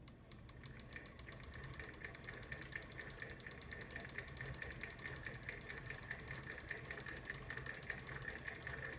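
Motorized WW1-era Singer 28 sewing machine winding a bobbin, giving a steady, even mechanical hum and fine rapid whir that runs close and unbroken throughout, with no talking.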